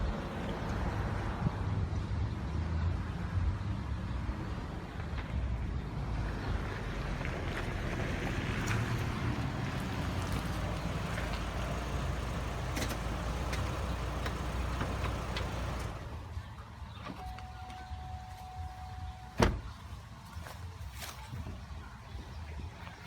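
Hummer H3 on a test drive, a faint steady road rumble and engine hum with wind noise, easing off toward the end before a brief thump.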